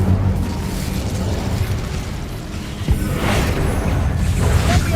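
The Incendio fire spell from the video game Hogwarts Legacy bursts out as a loud, sustained whooshing roar of flame with a few pops and booms layered over rumbling combat noise.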